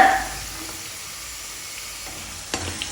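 Chicken pieces fry in hot oil for Kerala-style chicken pickle, giving a steady, soft sizzle close by, with a couple of light utensil taps near the end and no voices.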